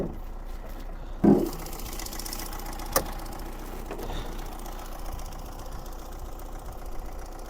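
A 1.7 CDTI diesel engine in an Opel Zafira idles steadily with a fine rhythmic clatter, opening with a brief louder knock and a sharp click partway through.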